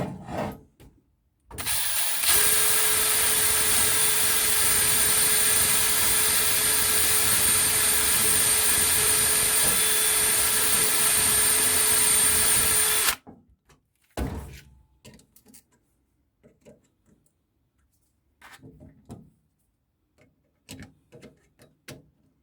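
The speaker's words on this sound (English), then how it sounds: "give it a quick whiz with a wire brush too" Wire brush worked rapidly over metal parts of a live steam model engine under restoration, giving a loud, steady, dense scrubbing rasp that runs about eleven seconds before stopping abruptly, followed by scattered quiet knocks and handling sounds.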